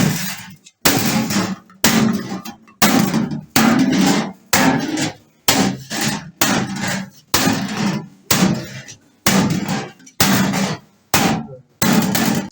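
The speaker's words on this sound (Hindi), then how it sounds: "अब इस शीट पे ये लकड़ी का हथौड़ा होता है, इससे पिटाई करके धीरे धीरे शेप देंगे, नेचुरल शेप।" A wooden mallet beats a brass sheet into shape in a metalware workshop: about a dozen loud, close, evenly spaced blows, each a sharp thud with a short ringing decay, with no talking.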